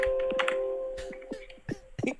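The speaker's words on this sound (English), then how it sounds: "he's typing away on the Observer" Keys clack in a quick, irregular burst of typing on a computer keyboard, heard faintly over a phone line alongside a low steady hum.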